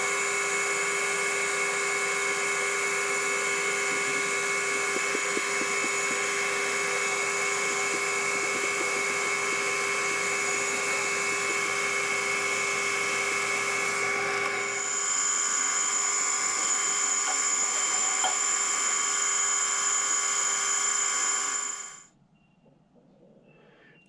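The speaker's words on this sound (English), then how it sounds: "I'm going to bore this out to 40 millimeters now." A lathe bores a drilled hole in a workpiece out to 40 millimetres, giving a steady, loud high-pitched whine with sustained tonal ringing for about twenty seconds before the cut stops and quiet follows.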